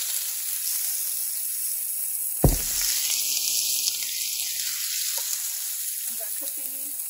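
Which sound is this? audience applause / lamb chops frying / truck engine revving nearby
lamb chops frying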